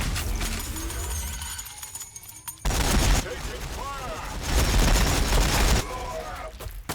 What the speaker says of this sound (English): Just shooting our regular guys there.